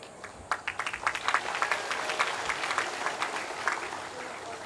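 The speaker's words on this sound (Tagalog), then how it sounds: "Parang mahina ho yata yung palakpak." A community audience at a local leaders' meeting in Maasin City gives a thin round of applause, scattered claps building from quiet into a modest, fairly faint patter that lingers under a distant speaking voice.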